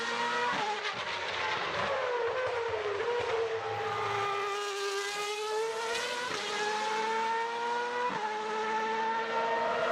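A race car screams through its gears, the engine pitch climbing in repeated rising sweeps with sharp shifts and brief tire noise, loud and close throughout with no talk over it.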